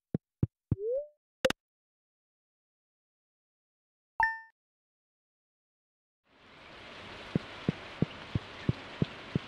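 After a few sparse game chimes and blips in Stardew Valley, steady rain hisses in partway through, a soft continuous wash with faint regular ticks over it.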